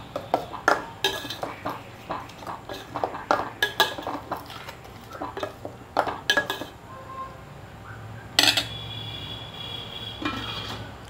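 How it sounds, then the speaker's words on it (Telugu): A spoon stirs spiced fish curry in a steel pot, giving a series of sharp metallic clinks and scrapes in an uneven rhythm. The sound is close and clear, with one louder clang near the end. "ఇప్పుడు మొత్తం అంతా కూడా కలిసేటట్టుగా కలిపేసుకోవాలి."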